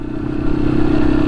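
A Yamaha XT250 or Honda CRF300L dual-sport motorcycle rides a dirt trail, its steady, loud engine drone close and continuous with rattling clatter mixed in.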